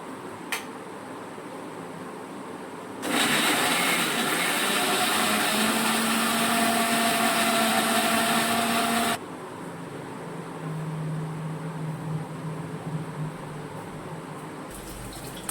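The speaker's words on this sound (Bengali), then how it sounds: "চলো মিক্সার গ্রাইন্ডারে পেস্টটা বানিয়ে নিই" A kitchen mixer grinder whirs loudly for about six seconds while grinding a spice paste, starting and stopping abruptly, with quieter household noise before and after.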